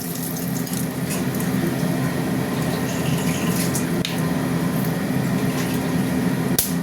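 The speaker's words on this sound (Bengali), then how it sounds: "তেল গরম হয়ে গেছে, দিয়ে দিলাম শুকনো লঙ্কা, তেজপাতা দিয়ে দিলাম।" Dried red chilies and bay leaves dropped into hot oil for a chicken curry give a steady, close, even sizzle that holds without a break, with no voices over it.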